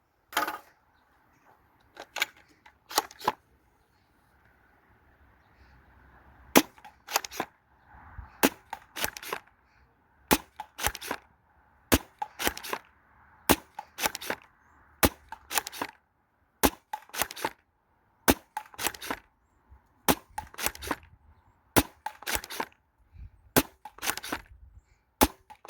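Worker Seagull foam dart blaster firing repeatedly, sharp close snapping shots in irregular bursts and singles spread over many seconds, with a faint mechanical whir and quiet gaps between volleys.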